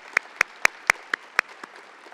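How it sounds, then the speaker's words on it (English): A few scattered claps from a small audience at a transit agency press briefing honour visiting ambassadors, about seven sharp separate hand claps in a slow uneven rhythm, thinning out and fading after a couple of seconds. "Let's give them a round of applause."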